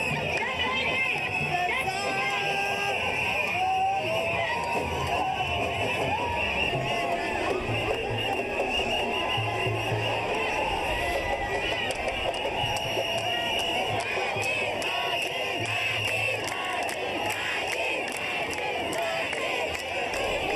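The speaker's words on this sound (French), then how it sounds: "C'est une foule immense qui a accueilli le président de la République dans le département de Mbour." A huge crowd in Mbour, Senegal, welcomes the country's president with a dense, continuous roar of cheering, shouting and chanting that stays loud and steady throughout.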